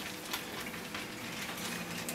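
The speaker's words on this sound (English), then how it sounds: "It sizzles more, then I drain it." Hydrogen peroxide and water fizz against moldy seeds inside a plastic bag, making a faint, steady crackling hiss that runs evenly throughout with no voices.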